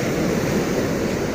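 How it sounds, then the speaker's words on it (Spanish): Ocean waves roll onto Playa Tamarindo beach in Acapulco, a loud continuous rush of surf with some wind noise. "La playa está bonita, el oleaje está bonito también"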